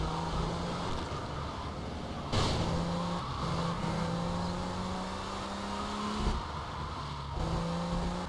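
Car engine from GTA Vice City revving and droning steadily, with brief skids and tire squeals breaking in between shifts, game sounds alone with no talk.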